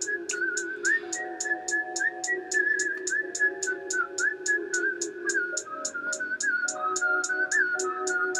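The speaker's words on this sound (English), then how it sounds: "I love that whistle." A melodic whistle line runs through the song, wavering steadily above a rhythmic beat with sharp repeating hits and a low bassline throughout.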